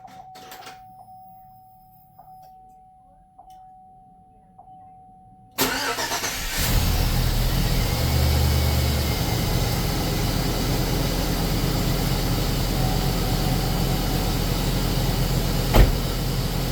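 A 2003 Cateye truck cranks and fires after new knock sensors, oil pressure sensor and intake manifold gaskets, then settles into a loud, steady idle; a faint chime and soft clicks come before the start.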